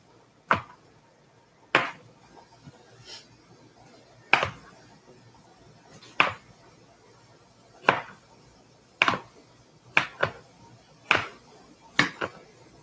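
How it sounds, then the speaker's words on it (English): Sharp knife chops on a cutting board while preparing vegan chili, about a dozen irregular strikes with quiet gaps between them, close by. "I'm just chopping these up"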